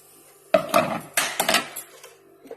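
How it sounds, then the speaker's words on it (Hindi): Food is tipped into an air fryer basket: a quiet start, then a clatter of utensils and metal scraping in a few uneven bursts, tapering to a faint knock at the end. "और मैं एयर फ्राई में डाल दूंगी।"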